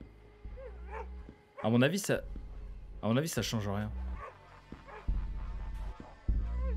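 In the horror video game Canine, a dog gives two loud bursts of barking close by, heard over someone speaking in French with a low game drone underneath.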